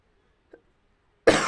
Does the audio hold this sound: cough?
yes